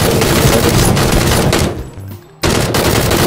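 Dense gunfire in PUBG, loud and continuous bursts of shots filling most of the clip, dropping briefly to near quiet before the volley resumes.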